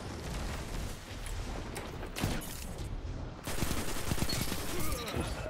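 Rapid gunfire in the video game Destiny 2 from a primary shotgun earned in the Trials of Osiris, several sharp blasts over about five seconds, with a louder burst in the second half.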